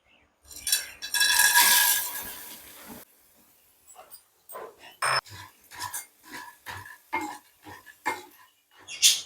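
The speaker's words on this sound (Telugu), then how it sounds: "ఇప్పుడు ఈ ఆయిల్లోని వేసుకొని వేయించుకుందామండి" Small vadiyalu, lentil dumplings, dropped into hot oil for a curry, with a loud hissing sizzle at first that settles into a series of intermittent crackles and spits, close by with no talking.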